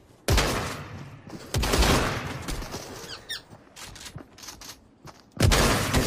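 Bursts of rapid gunfire from a weapon in a video game, with several loud volleys separated by short pauses and small squeaky effects between them, close and punchy.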